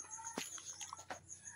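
Backyard chickens, a rooster among them, give short scattered clucks and calls at close range while being fed, with no talk.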